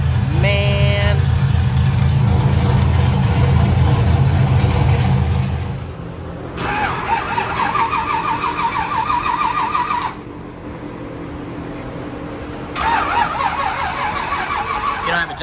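An LS-swapped Nissan 350Z runs on a dyno, its engine droning loudly at first, then settling into rougher, lower running with a couple of quieter gaps and a pulsing buzz.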